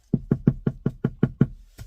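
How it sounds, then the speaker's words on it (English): Knuckles rapping on a door, eight evenly spaced, close and loud knocks in a quick steady rhythm, with no talking over them. "Knock on the door."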